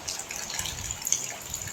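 Water drips and splashes outside during heavy rain, a faint, irregular patter of close drops with no one talking.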